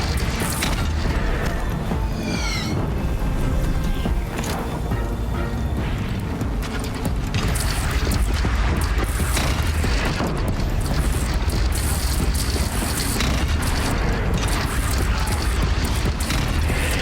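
Heavy, booming cannon blasts and crashes repeat continuously amid a dense, roaring video game soundscape, loud and sustained throughout.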